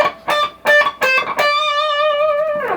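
Electric guitar played through a distortion pedal cranked for aggressive full-rock gain: three sharp chord stabs, then a long sustained, saturated chord ringing out loud and close, with no talking.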